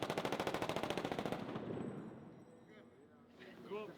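A rapid, evenly spaced burst of automatic gunfire from a test fire on a film set rattles loudly for about a second and a half, then fades into a lingering rumble.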